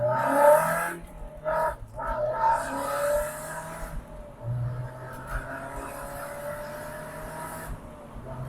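An Italian car approaching 100,000 miles being driven hard on a road test, the engine revving and pulling through gears with surging bursts and brief lifts, fairly distant and fluctuating in loudness.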